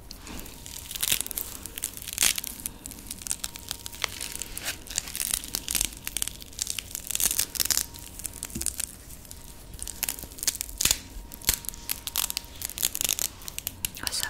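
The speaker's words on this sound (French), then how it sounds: "Lui c'est un de ses jouets qui s'est collé au scratch. Donc je vais essayer de le décoller." A stuck toy is peeled away from the velcro strip on a harness, giving repeated close, crisp ripping bursts with crinkly rustles between pulls, in a quiet intimate setting.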